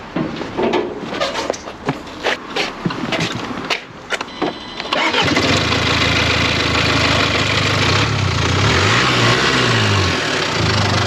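A Jaguar with a suspected fault tries to start: clattering and clicks, then the engine catches around midway and settles into a loud, steady rough idle.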